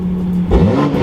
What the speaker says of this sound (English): we'll do a quick little rev.